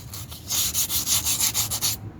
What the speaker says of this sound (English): I love it when you wet sand.